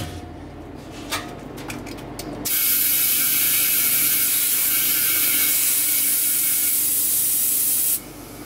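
An impact wrench works on hot lug nuts of a steel deck car trailer, with a few short rattling bursts followed by a loud, sustained whirring spin for about five seconds that then cuts off, close and without talk.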